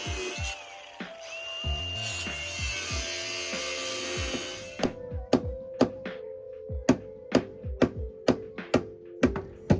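Metal slider plate on a 100 Series Land Cruiser being whacked into place, a series of sharp, loud metallic hammer strikes in a steady rhythm, following a stretch of power tool whine and clunks.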